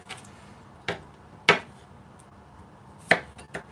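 A knife chops food on a board in a few sparse, sharp, separate strikes with pauses between them, close and fairly quiet, with no voices.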